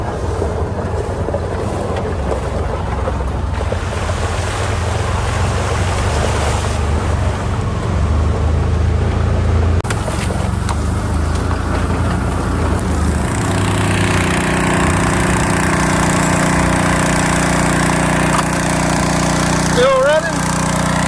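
A gasoline-powered water pump engine runs at a dam, giving a steady, loud, continuous drone mixed with wind rumble, with voices faintly present.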